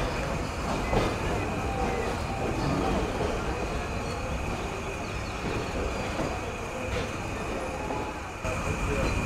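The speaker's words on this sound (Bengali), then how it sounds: "আমাদের ট্রেন নির্ধারিত সময় থেকে 1 মিনিট বেশি যাত্রা বিরতি করে এখন ছেড়ে দিল মোবারকগঞ্জ রেলওয়ে স্টেশন থেকে" A train pulls out of Mobarakganj railway station, its steady rumble and rattle of carriages filling the recording at a constant level, with faint voices mixed into the noise.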